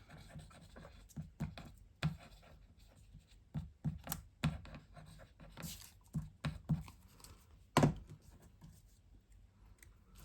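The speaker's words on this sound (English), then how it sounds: "I'm going to draw around the edge of that with a Sharpie pen" A Sharpie pen traces around the edge of paper glued onto a folio, giving short dry scratchy strokes in irregular bursts with brief pauses, close and fairly quiet, with no talking.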